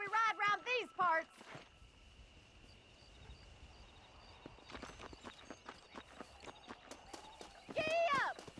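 Hoofbeats of a galloping horse in the Red Dead Redemption video game, a run of quick rhythmic clip-clops in the middle, with voices and a shout at the start and end.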